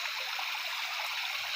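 Water poured out near a graveled building site, flowing into storage, makes a steady bright hiss and trickle, close and continuous with no voices.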